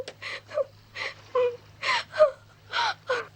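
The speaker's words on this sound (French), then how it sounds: "Elle pleure de nouveau." A seagull in a cartoon cries in a run of about nine sobbing, gasping wails at a steady pace, moderately close, over a low background hum with no talk.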